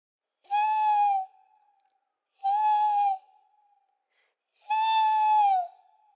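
A high, thin human voice imitates seagull calls: three separate sustained, slightly falling cries, each about a second long with pauses between, clear and close with no other sound.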